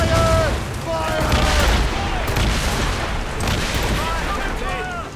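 Ship cannons in the video game Assassin's Creed Rogue fire in a loud, dense volley of overlapping booms throughout, with crew voices shouting over the barrage.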